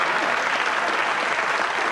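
A studio audience at a 1989 Christmas TV quiz show claps steadily and densely for a brief spell, loud and continuous with no talk over it.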